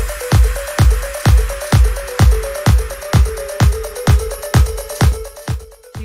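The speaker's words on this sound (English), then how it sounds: "you should hear music at this point." Music streams from Spotify in a Chrome browser tab, a loud electronic track with a steady, punchy kick drum pulsing on every beat, alone without any talking.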